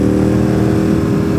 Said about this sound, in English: And a Ford.